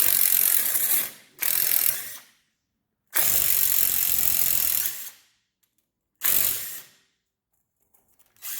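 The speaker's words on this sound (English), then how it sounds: "So I'm going to unbolt" A 3/8-inch ratchet with a 12-point socket unbolts the inner CV joint on a Tatum sand rail, giving three loud bursts of rapid clicking, each a second or two long, separated by silences.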